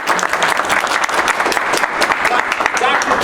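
An audience at a talk on small-scale biochar devices claps throughout, dense, sustained applause close by with no gaps.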